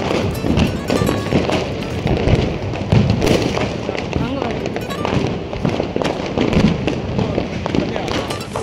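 Diwali firecrackers go off at a family celebration at home in a dense, continuous barrage of crackling pops and bangs, loud and close, with voices mixed into the din.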